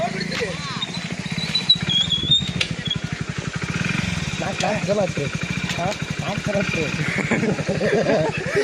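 A motorcycle engine runs close by, steady and throbbing throughout, with people talking loudly over it.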